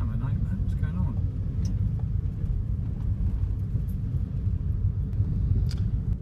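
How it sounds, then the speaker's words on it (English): Road traffic on the Arbroath Road in Dundee at night, heard from inside a car stuck in a jam: a steady low engine and tyre rumble that fills the whole stretch, with no voices over it. "I appear to be stuck in a bit of traffic here, folks, just coming along the Arbroath Road"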